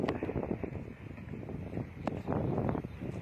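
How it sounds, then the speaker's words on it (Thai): Wind blowing outdoors on a sunny day in the countryside, a steady broadband rush buffeting the microphone throughout, with faint bird calls and small rustles mixed in. "แดดบ่ฮ้อนแต่ว่ามีลม"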